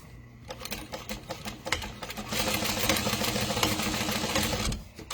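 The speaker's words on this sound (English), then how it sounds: "we'll back stitch in this corner" A sewing machine back stitches the corner of a leather wallet, starting with short uneven stitching bursts that build into a steady, loud, close mechanical run before easing off at the end.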